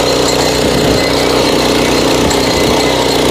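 A Kisan power weeder tills soil in second gear with a loud, close, unbroken engine roar and an even mechanical chug throughout.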